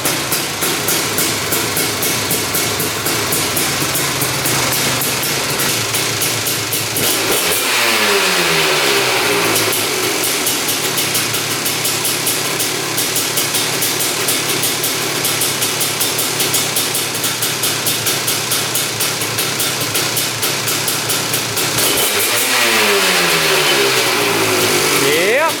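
A Honda TRX 310cc big-bore quad with a coolant leak runs loud and close, its engine note steady and rough, with two sharp revs rising and falling partway through and near the end.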